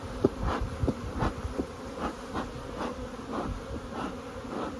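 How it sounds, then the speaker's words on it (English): Honey bees buzz close around a beekeeper working without a veil, many insects circling in a steady, droning hum with individual bees passing near and fading away, and no voices. "This is almost like a swarm without a queen. They're just flying all around me."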